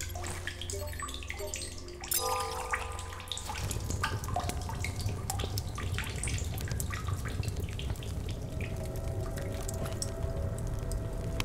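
Water running and dripping inside a cave in the video game Solus Project, a steady broadband trickle that swells louder after the first few seconds and carries on continuously, with no talking.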